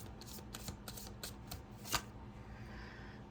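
Tarot cards shuffled up close in a quick run of crisp riffling flutters, then a single sharper snap before the sound trails off, with no talk.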